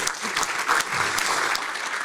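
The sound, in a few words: audience applause for a start-up presenter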